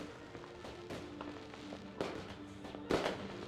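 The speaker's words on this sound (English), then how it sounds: "Oh, that's a better fireworks display." Fireworks in a Mars colony-building game crackle and pop in scattered bursts, with two louder bangs toward the end over a faint steady hum.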